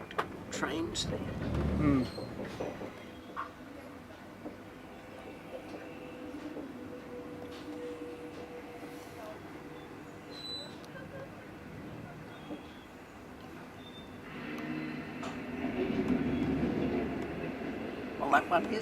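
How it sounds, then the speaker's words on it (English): Trains idling and moving at a railway station in China, a steady low rumble and mechanical hum throughout with brief louder surges at the start and near the end, while people talk intermittently nearby. "There's 2 different trains there."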